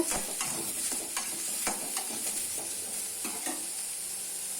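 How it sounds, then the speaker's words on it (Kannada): Ingredients for a ridge gourd chutney fry in oil in a pan with a steady, fairly soft sizzle, broken by repeated scrapes and taps of a stirring spoon. "ಎಲ್ಲವನ್ನು ಎಣ್ಣೆಯಲ್ಲೇ ಚೆನ್ನಾಗಿ ಹುರಿದು"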